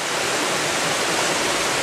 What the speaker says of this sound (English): there's something about that waterfall, about the water trickling through the stones